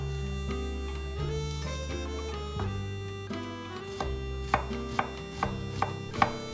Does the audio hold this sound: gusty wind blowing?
no